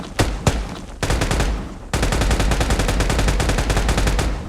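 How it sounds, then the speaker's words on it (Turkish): Rapid M416 automatic rifle fire from a video game, a couple of single shots then long sustained bursts of evenly spaced loud cracks. "Eski oyunlarda silah sesi gibi değil mi?"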